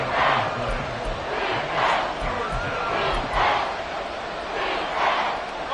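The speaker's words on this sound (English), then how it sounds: "The Arrowhead crowd in full roar." The home crowd at Arrowhead Stadium roars during an NFL football game, a loud sustained wall of cheering and shouting that swells in repeated surges.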